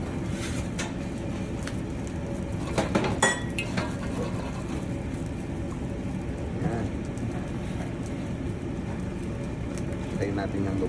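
Sauce thickened with cornstarch being stirred in a metal pot: scattered clinks and scrapes of a utensil against the pot sit over a steady low background hum, with a brief cluster of sharper clinks near the middle.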